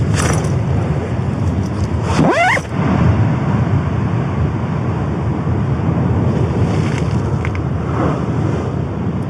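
Heavy surf roars close by, waves smashing up under the ground at a campsite, in a constant wash, with gusty wind buffeting the microphone throughout.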